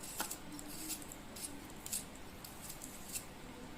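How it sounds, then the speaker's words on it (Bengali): Potatoes being cut by hand for a desi chicken curry, a quiet series of short crisp cutting snips spaced irregularly, close but faint against light room noise, no talking. "এখন আলু কাটছি।"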